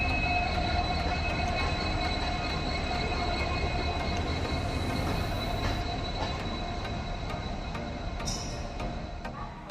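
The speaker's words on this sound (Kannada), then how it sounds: "6:51 ಲೋಂಡಾ ಜಂಕ್ಷನ್ ಇಂದ ನಾವು ಹೋಗ್ತಿರೋ ಗೋವಾ ಎಕ್ಸ್ಪ್ರೆಸ್ ಟ್ರೈನ್" Goa Express (train 12779) hauled by WDP 4D diesel locomotive 40507 pulling out of Londa Junction, a steady rumbling roll of wheels and carriages throughout, close and continuous with faint squeals near the end.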